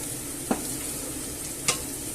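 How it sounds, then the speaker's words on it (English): Garlic frying gently in a pan, a soft steady sizzle broken by two brief scrapes of stirring, close and fairly quiet. "So let's give this a little stir."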